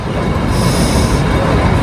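Loud, continuous rumble and rattle of the moving narrow-gauge Kalka–Shimla toy train, steady throughout with a faint high squeal from the wheels.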